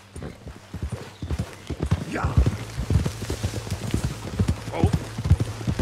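Horse hooves clip-clop in a quick, steady rhythm in the game Red Dead Redemption 2, close and moderately loud, with a brief whinny and a couple of short spoken words over the hoofbeats.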